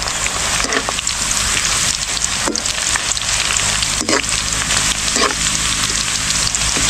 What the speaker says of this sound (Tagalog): umpisa na natin magluto ng ating kamote chips